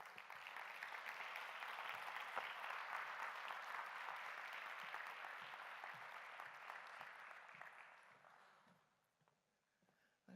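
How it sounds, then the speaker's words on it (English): A conference audience at a climate change business plenary applauds steadily as panelists walk up to the stage, a dense even wash of clapping that holds for about eight seconds before fading out to near silence. "Please applaud them as they come up."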